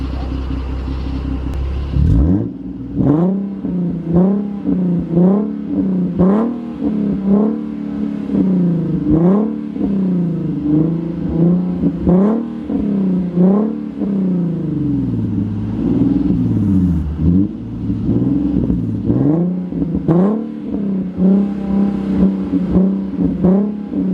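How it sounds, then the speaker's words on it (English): A 2014 Infiniti Q50 with its muffler deleted, revving loudly and close up in a run of sharp, repeated throttle blips over a deep idle rumble, with no talk. "A few little revs won't hurt."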